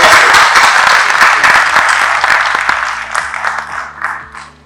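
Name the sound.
audience applause at a hospital award ceremony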